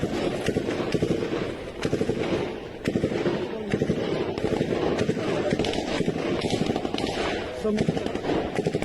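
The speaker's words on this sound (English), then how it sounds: "You can hear the heavy machine guns going off in the background." Heavy machine guns fire in the distance during an assault in Bakhmut, rapid bursts of cracking shots recurring over dense rustling and movement noise from a chest-mounted camera, with voices talking throughout.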